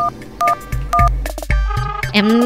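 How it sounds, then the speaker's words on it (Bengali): A cartoon phone is dialed with a string of short, bright electronic key tones, each a distinct beep separated by brief pauses, followed by rising ringing tones, loud and close. "রিং হচ্ছে, রিং রিং।"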